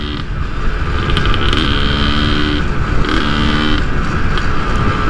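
A vintage Yamaha DT 180 two-stroke motorcycle idles and revs in a busy town centre, its engine drone steady and close throughout with no speech.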